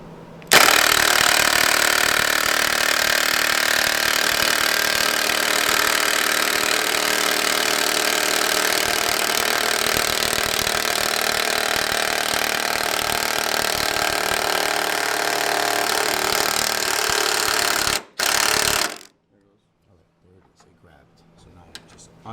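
Impact gun with a 13mm socket tightening a bolt while installing a nutsert on a car, a loud continuous rattling hammer running steadily for about seventeen seconds, with a brief break before stopping into near silence.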